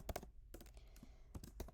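Fingers type on a computer keyboard in a quick, uneven burst of close, crisp key clicks with short pauses, very quiet overall.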